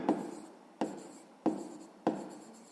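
Pen strokes on paper while a sixth-grade math solution is written down. Four distinct scratchy strokes fall at an even pace, close and quiet.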